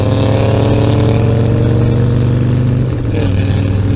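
A loud, throaty engine with a glass pack exhaust drones continuously at high revs, dipping briefly before climbing again, with no voices.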